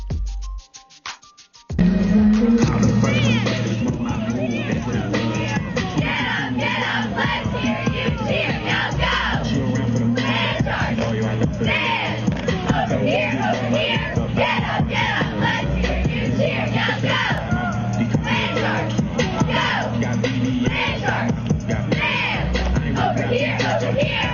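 Cheerleaders doing a cheer at a high school football game between Beaufort and Oceanside in Charleston: group voices yelling in rhythm over crowd noise, loud and sustained after a brief quiet start.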